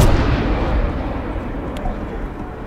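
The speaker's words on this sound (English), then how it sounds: "They just dropped a bomb" A bomb dropped in the military shooter ArmA 3 goes off in a loud, deep blast whose rumbling roar rolls on and slowly fades, with a faint crack partway through.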